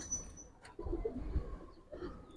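Giribaz pigeons coo softly in a loft, low rolling calls repeating quietly at a slight distance over faint background noise.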